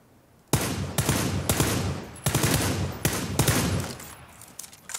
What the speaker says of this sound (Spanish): Me acabo de venir arriba disparando con la mirilla